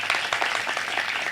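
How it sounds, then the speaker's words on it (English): An audience at a talkathon panel event applauds a panelist: brisk, crowded clapping with many overlapping claps, steady and fairly loud throughout, with no talking over it. "let's give a round of applause for Vikram sir."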